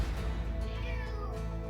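A cat meows inside a small studio condo, a single drawn-out, wavering cry heard close and clear over a low steady background hum.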